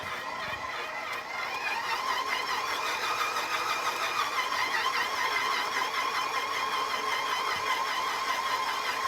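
A stand mixer runs at higher speed kneading pizza dough made with olive oil, giving a continuous, even motor whir with a steady mechanical rattle close by, with no talking.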